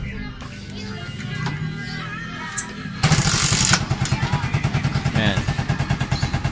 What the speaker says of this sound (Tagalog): So papandarin ko lang yung makina.